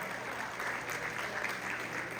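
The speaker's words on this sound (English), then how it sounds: "So how about a big round of applause for the Po'ohela Ohana?" Audience clapping steadily and fairly close for a Kauai 12U all-star youth baseball team at an awards gathering, a dense, even round of applause that carries on without a break.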